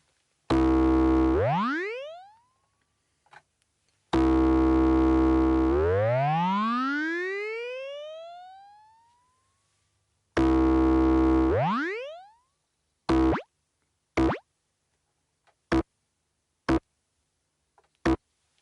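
Korg Volca Modular synth tones with a rapid bouncing pattern that speeds up and rises in pitch, played three times, then a few short isolated blips, loud and clear.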